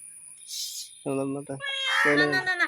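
A cat meows a few times up close, short clear cries in quick succession with a brief hiss-like breath before them.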